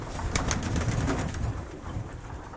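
Viennese pigeons feed up close, soft repeated cooing mixed with quick pecking and fluttering sounds over a few seconds.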